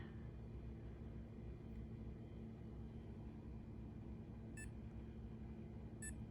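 Two short electronic beeps, a second or so apart, over a low steady rumble of background noise.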